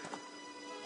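Horse hooves clip-clop in Zelda: Majora's Mask, a soft, quick, steady patter of hoofbeats through a faint game background.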